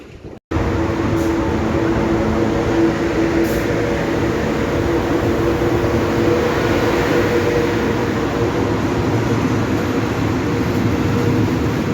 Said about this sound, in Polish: Ale zaskoczenie! Pociąg towarowy!